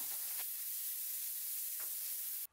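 Green peas kurma simmers in a pot with a steady, close, hissing bubble that stays even throughout, then cuts off abruptly at the end. A couple of soft stirs or knocks sit under the hiss, and no one speaks.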